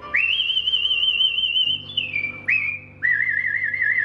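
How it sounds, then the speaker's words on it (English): A character whistles a melodic tune in the video game Baldur's Gate, clear sustained high whistled notes that slide between pitches with a brief pause and warble, close and alone. "This guy whistles like an angel."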